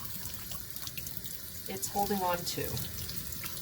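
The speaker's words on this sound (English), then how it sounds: "look at the water coming out there" Hot water runs from a tap in a steady low splash, rising briefly as it hits cloth in the sink, while a person talks quietly over it.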